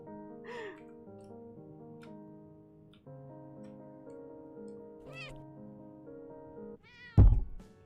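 A cartoon cat meows in a video game, a short rising mew near the start and a louder burst near the end over steady background music.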